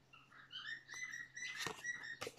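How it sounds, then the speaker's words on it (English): Pet birds chirping indoors, a quick jumble of thin high chirps and squeaks, faint and close, with a few sharp scratchy rustles near the end. "Oh, my birds are going"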